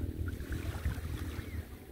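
Low rumbling wash of a boat moving on the water off a beach, with wind buffeting the microphone throughout; no voices.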